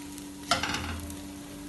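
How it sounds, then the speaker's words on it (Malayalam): Bread slices dropped into hot ghee in a pan, a sudden soft sizzle burst at the moment they land, then a quiet, steady fry over a low hum. "ഈ നെയ്യ് ചൂടാവുമ്പോ ഇതിലേക്ക് ബ്രെഡ് ഇട്ട് ഫ്രൈ ചെയ്യാം."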